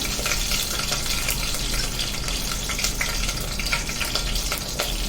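Dense, continuous sizzling and spattering of tempering seeds frying in oil for pepper rasam, close and loud, with faint popping crackles throughout.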